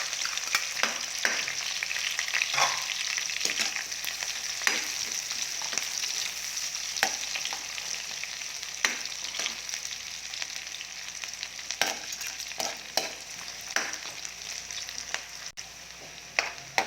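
Garlic and onion sauté in hot cooking oil with a steady, close sizzle and crackle, broken by occasional sharp clicks and scrapes of a utensil against the pan.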